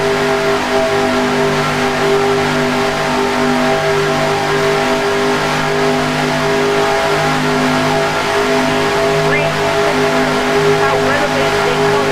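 A pack of stock cars races at Daytona in the NASCAR Racing 2003 computer game, a dense, continuous multi-engine drone at a steady pitch with no breaks.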